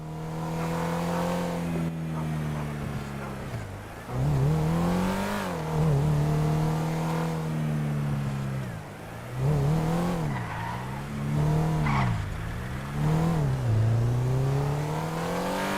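A stolen car in GTA Online drives with a loud, continuous engine drone that rises and falls as it revs and shifts, and tires squeal in short bursts during turns.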